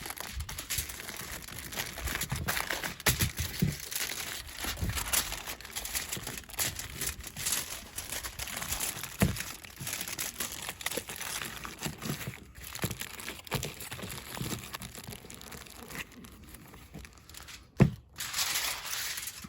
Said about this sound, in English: this time we're going to go diagonally across the sheet of tin foil